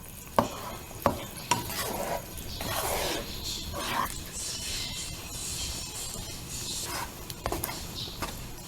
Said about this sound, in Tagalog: Tapos haluin.